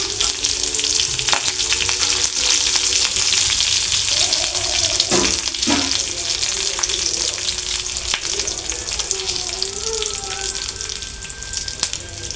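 Garlic, dried chillies and curry leaves fry in hot oil in a kadai, a loud, continuous close-up sizzle and crackle with a few brief stirring scrapes.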